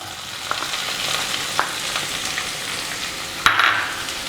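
Crushed shallots sizzle in hot oil while being stirred, a continuous bright hiss marked by occasional spatula taps and one louder scrape near the end, close up and without talking.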